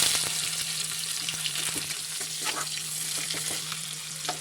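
Onions frying in hot oil in a kadai, a dense continuous sizzle with scattered crackles and soft stirring scrapes throughout, close and steady with no talking.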